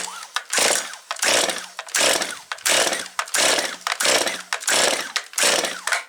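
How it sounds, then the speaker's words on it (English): Stihl MS250 chainsaw pull-started, with about seven rhythmic rasping cord pulls in a row, loud and close, each a brief whooshing burst without the engine catching. "Once you'll pull the cord again, when it fires, you just flip the throttle down here and it will automatically kick up from choke to run."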